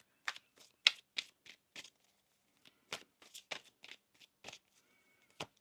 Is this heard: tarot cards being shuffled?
yes